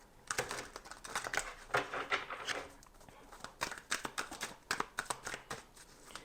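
A rapid riffle of tarot cards being shuffled, a busy crackling flutter in several bursts, close and fairly quiet with no talking.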